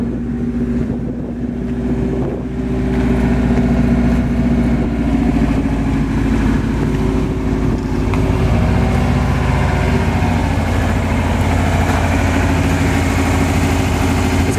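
1987 Subaru RX turbo with its engine running; a steady, close idle drone with a slight rise partway through, no speech over it.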